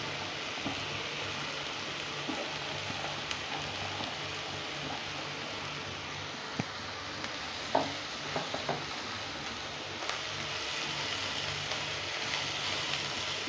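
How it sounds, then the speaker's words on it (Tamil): Chopped agathi and manathakkali spinach being stirred and sautéed in a pan, a soft steady sizzle with occasional scraping clicks of the spoon, close and fairly quiet. "இப்போ இந்த கீரையை நம்ம கொஞ்சம் கொஞ்சமாக ஆட் பண்ணி இதையும் நல்லா வதக்கிடும்"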